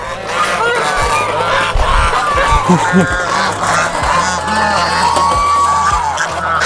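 A flock of geese at a cafe in Phuket, Thailand honks loudly and repeatedly close by, overlapping calls with a busy babble of voices underneath.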